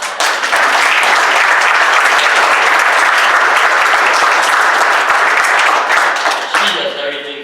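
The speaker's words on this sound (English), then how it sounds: "I think Jenny needs a round of applause." A banquet audience applauds a school staff member at a 2022 heritage award event, loud sustained clapping filling the room for several seconds before tapering off, with speech faintly underneath.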